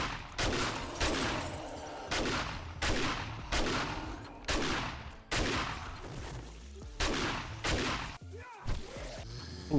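Shotgun blasts in the hardcore survival game 7 Days To Die, about nine loud booming shots at a steady, roughly once-per-second rhythm, each with a short decaying tail.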